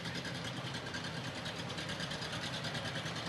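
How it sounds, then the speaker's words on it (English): Vintage John Deere Model MT "Johnny Popper" tractor engine rolling along in a county fair parade, a steady mid-distance chugging drone that continues without a break, with no voices. "We've sure got a nice lineup of tractors today."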